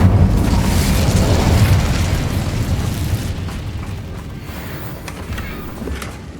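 A loud, close blast of the Incendio fire spell in Hogwarts Legacy, a broad roaring whoosh that swells at once and then slowly fades over several seconds.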